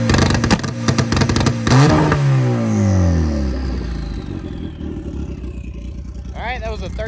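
A Dodge Caliber SRT4 with a stock turbo at a track day, revving hard against a two-step launch limiter held near 3,500 RPM, a loud stuttering buzz that then drops away into a falling engine tone and idle.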